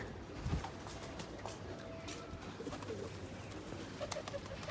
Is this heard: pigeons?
yes